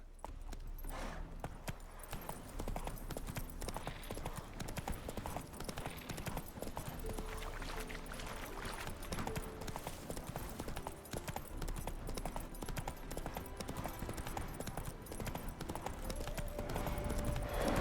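Steady clip-clop of horse hooves trotting along, continuous and fairly loud, with ambient background sounds from The Witcher 3: Hearts of Stone underneath.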